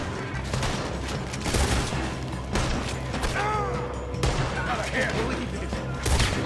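Scattered gunshots from Red Dead Redemption crack out over a busy mix of mechanical clatter, creaks and background game sounds, with sharp reports recurring through the scene.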